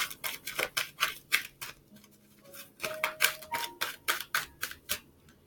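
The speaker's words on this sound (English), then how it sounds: "Just going to move these cards up a little bit. I'm shuffling really poorly today" Tarot cards being shuffled and moved on a table, producing a quick series of crisp, close snapping and flicking clicks in uneven rhythm, quiet overall, with a few faint tonal hums in the background.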